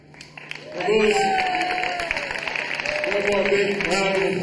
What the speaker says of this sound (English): One more big round of applause for the Hilo family.